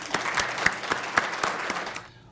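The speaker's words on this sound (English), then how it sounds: "let's give a big clap to all of us" A crowd applauding steadily with dense, even clapping that fades out near the end.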